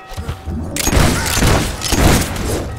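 Fable 3 video game gunfire, a rapid burst of loud, booming shots with heavy thuds, several blending into a dense volley.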